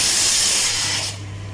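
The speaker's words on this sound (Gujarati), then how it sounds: "આ બાજુ જો આપણે ભાજી મૂકી દીધી છે બાફવા માટે બધી" Vegetables including bottle gourd and cauliflower steam for pav bhaji with a loud, close rush of hissing steam for about a second, which then drops away to a low steady hum.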